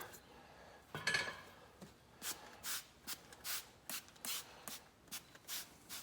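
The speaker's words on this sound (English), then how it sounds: "I'm gonna spray it along here just so things are gonna go on a little smoother." A series of short, hissing spritzes of soapy water from a spray bottle, about a dozen bursts in a steady rhythm, close by, after a brief rustle.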